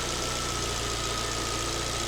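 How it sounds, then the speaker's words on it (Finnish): Warm Alfa Romeo 1.4 TB engine idling steadily, a constant even mechanical drone with a faint whine, close by, cutting off abruptly at the end. "Moottori on nyt jo valmiiksi lämmin, kun mä lämmitin sen tossa."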